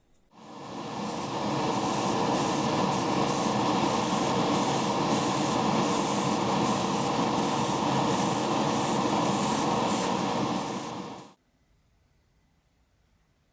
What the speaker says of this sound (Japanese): タミヤ様のスプレー缶から摘出したイエロー。